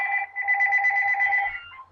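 A phone rings with a steady electronic two-tone chime, fairly faint and alone, running for under two seconds.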